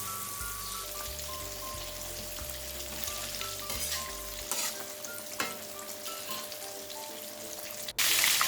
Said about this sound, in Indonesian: lanjut kita goreng tahunya. Goreng di minyak yang banyak dan juga sudah panas.